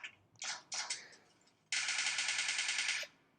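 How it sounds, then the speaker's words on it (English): Gunfire in a mobile shooter game played on an Oppo Reno phone: a few short separate bursts, then a longer rapid automatic volley of about a second, loud and close, no speech. "someone's shooting me on this side"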